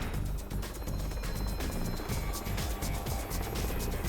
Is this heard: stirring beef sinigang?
no